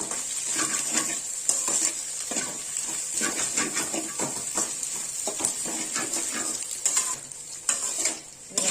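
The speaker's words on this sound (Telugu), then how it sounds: "ఇప్పుడు ఈ వెజిటబుల్ కూడా ఈ ఎగ్గులోకి కలిపేస్తున్నాము." Vegetables stirred into cooking egg in a pan for egg noodles: a continuous bright sizzle under repeated scraping stirs and light clinks of a utensil against the pan, fairly close and busy throughout.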